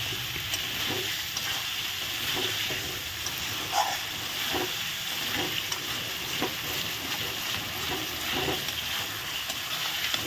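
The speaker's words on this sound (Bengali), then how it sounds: "ভেজে রাখা পটলগুলো দিয়ে আমি একটু ভালো করে নেড়ে চেড়ে নিচ্ছি।" Fried pointed gourd being stirred in a pan, a steady close sizzle of frying with soft periodic scrapes and stirring knocks, continuing without talk.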